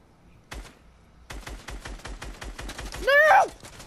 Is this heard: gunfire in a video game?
yes